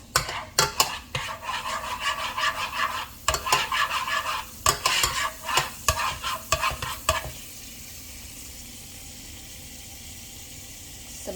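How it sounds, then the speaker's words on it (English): Stirring scrapes and clatter in a hot pan over a sizzling fry for tomato egg drop soup, about seven seconds, then a quieter steady sizzle alone, close by. "I hear some sizzling."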